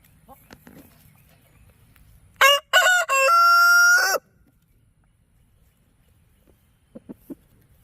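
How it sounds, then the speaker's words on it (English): A Wyandotte rooster crows loudly right beside the microphone, one long strained call broken into a few bursts, with quiet surroundings before and a few faint clucks afterward. "Wow, Jack, that's a powerful crow right in my face."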